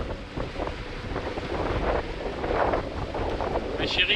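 Wind at 16 knots buffets steadily against the microphone aboard a sailboat off Fréjus, a rough continuous rush with some water noise beneath it and no clear talk.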